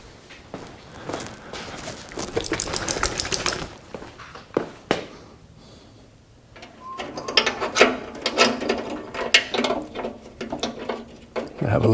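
A ratchet tightens a bolt on the auger of a Honda HS928 snowblower during a bearing replacement, giving rapid clicking bursts close by, broken up by a pause and handling noises.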